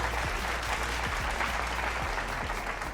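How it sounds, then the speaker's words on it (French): Audience applause at a televised fashion-show competition as a contestant comes forward, steady dense clapping throughout, fairly loud and sustained with no voices over it. "Sous nos applaudissements, s'il vous plaît"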